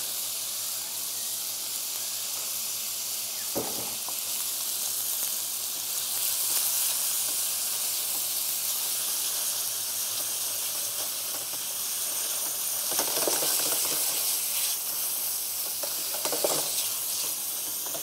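Chili paste frying in hot oil with tender beef, a steady loud sizzle and hiss that runs the whole time, with a few sharp clatters of stirring and utensil knocks.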